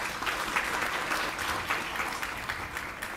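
Audience applause at a teaching and learning festival opening, a steady wash of many hands clapping, moderately distant and sustained without a break.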